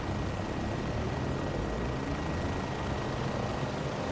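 The turbines and propellers of a Hughes XF-11 aircraft drone loudly and steadily in a flight game, a dense, close engine roar with a faint high whine and no talk.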